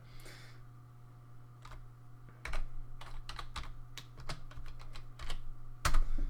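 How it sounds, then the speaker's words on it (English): Rapid, close keystrokes on a computer keyboard, irregular clicks and taps in quick bursts over a faint steady hum. "Very loud keyboard as well, because my mic's right in front of it."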